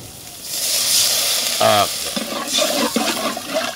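Water splashed into sizzling fried spices, including garam masala, while cooking a spicy baim fish curry: a loud close hiss of steam and bubbling that flares then settles, with a brief voice in the middle.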